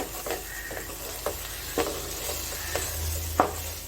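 Prawn fry being mixed in oil in a pan, with a soft sizzle under a few sharp scrapes and knocks of a spoon against the metal, spaced irregularly and heard up close.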